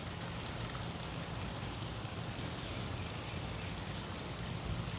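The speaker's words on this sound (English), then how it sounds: "It's very windy." Strong wind blows outdoors, a loud, steady roar buffeting the microphone for the whole stretch with no pauses.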